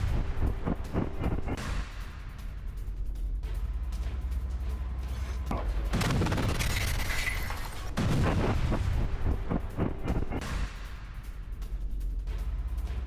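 Gunfire and explosions ring out during a Hamas attack on an Israeli tank by fighters emerging from a tunnel in Gaza, with repeated sharp bursts and a dense, sustained blast-heavy stretch in the middle, loud and continuous throughout.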